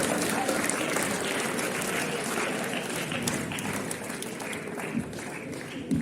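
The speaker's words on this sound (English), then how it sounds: "Claps, claps, claps for all of the champions" An audience applauds steadily for school champions at a TED-Ed style talk, a dense, even wash of clapping that holds for the whole stretch with a faint murmur of voices underneath.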